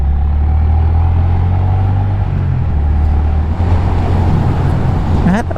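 A little Honda Grom 125 motorcycle held at high revs in fourth gear, a loud steady engine drone with strong rumble, heavy wind buffeting throughout and a brief rising whine near the end.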